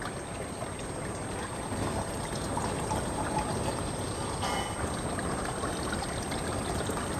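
Water pouring steadily into an aquaponics growbed, a continuous broadband splashing and trickling wash that stays constant at moderate loudness throughout, with no talk over it.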